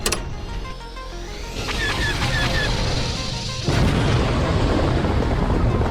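Spaceship Warthog D is destroyed by rear cannon fire in a sci-fi space battle: a dense rumble of engine noise and zaps gives way to a louder, sustained broadband explosion roar that fills the last two seconds.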